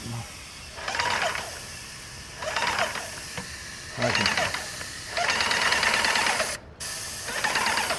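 A paint sprayer pump priming with stain repeatedly chugs in mechanical bursts, pausing between cycles with a steady hiss underneath, then runs continuously for a stretch.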